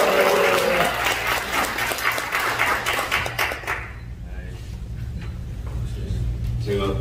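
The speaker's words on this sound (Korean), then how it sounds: "다시 한번 우리 함성과 박수로 모시겠습니다" Broadband applause and cheering from a large church seminar audience, loud at first and tapering off after a few seconds, with a steady low hum underneath.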